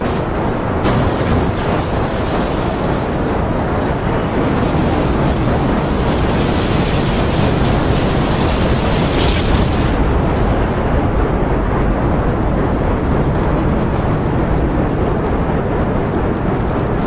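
A rocket in Kerbal Space Program ignites, launches and explodes during a failed SLS-1 launch: a loud, continuous roaring rumble fills the whole stretch without letup, broad and thunderous, with no talk over it.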